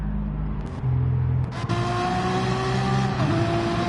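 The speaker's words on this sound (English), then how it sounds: "Jetfire's Lamborghini sounds gorgeous" A Lamborghini race car in Gran Turismo 7 roars loud and near, its engine note climbing and shifting pitch through a corner with a steady, tonal howl.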